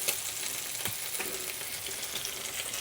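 Bacon and egg fry in a pan with a dense, constant sizzle and faint crackling spits, close and even throughout.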